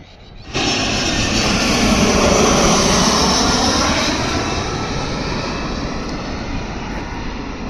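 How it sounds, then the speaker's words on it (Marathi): An airplane roars overhead, its broad engine rumble rising in quickly and holding loud and steady before easing slightly; no talking. "तर वेट करते कधी येणार एक प्लेन"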